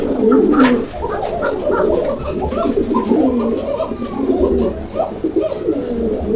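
Raj-golla pigeons coo in a steady, throaty rhythm close by, with faint higher bird chirps scattered over the top.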